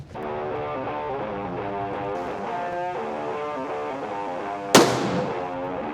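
A single sharp gunshot cracks out near the end at an outdoor shooting range, loud and abrupt, over steady music that plays throughout.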